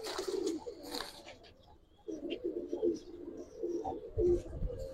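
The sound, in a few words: pigeon cooing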